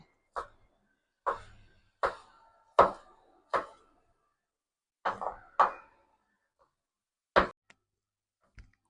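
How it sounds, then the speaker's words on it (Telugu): A knife chopping beans on a board, about nine crisp, separate knocks at uneven intervals with quick decays, close and clean against near silence and with no voices. "మనం బీన్స్ కూడా కట్ చేసుకుందాం."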